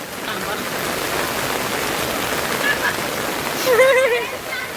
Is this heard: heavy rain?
yes